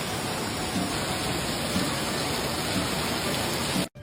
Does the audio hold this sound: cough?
no